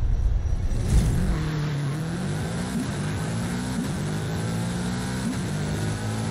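A little Honda car racing in the Forza Horizon 5 video game, its engine droning steadily with a rising and falling tone, accompanied by a continuous rush of road and wind noise.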